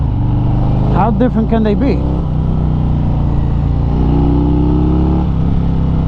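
A Harley-Davidson Road Glide motorcycle runs at riding speed with a loud, steady engine drone and wind rush, while someone talks over it near the start.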